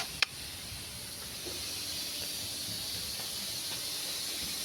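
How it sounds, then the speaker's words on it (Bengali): A pressure cooker boiling dal and potatoes gives off a steady, loud steam hiss that runs through the whole stretch, opening with one brief sharp burst near the start. No voices are present. "ডাল আলু সিদ্ধ হচ্ছে, সিটি পড়ছে"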